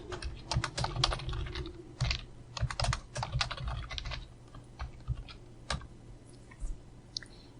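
Rapid clicking of computer keyboard keys while typing code, in uneven bursts of keystrokes close up that thin out toward the end.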